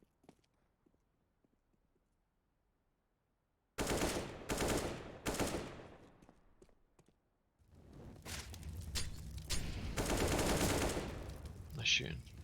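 Rapid video game gunfire in a tactical shooter match, loud automatic bursts erupting after a near-silent opening, then sustained rattling volleys with a few sharp single shots.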